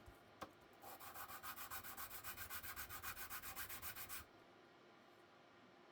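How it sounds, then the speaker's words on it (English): A vintage Colonial Barlow knife is rubbed flat on 120-grit sandpaper, about twenty quick rhythmic back-and-forth scrapes close by, followed by quiet. "I like to sand flat, okay, on these knives especially."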